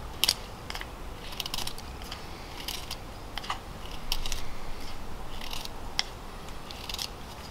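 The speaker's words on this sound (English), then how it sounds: "I'm just going to resharpen my spindle here a second." A knife resharpens the tip of a wooden bow drill spindle, giving a run of quiet, short scraping and shaving strokes in an irregular rhythm, up close with no talking.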